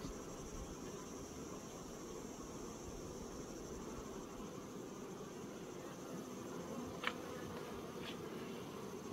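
A calm honeybee colony in an open hive gives a steady, soft, continuous hum, with two faint brief clicks near the end.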